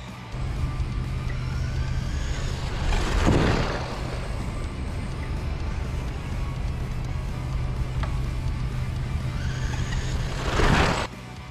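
A Team Associated SR10M ready-to-run RC dirt oval car drives laps with a constant electric motor whine, and its passes swell into two louder whooshing sweeps heard a few seconds apart.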